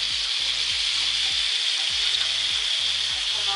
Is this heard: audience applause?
no